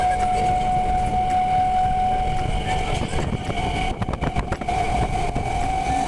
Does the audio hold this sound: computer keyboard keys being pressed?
no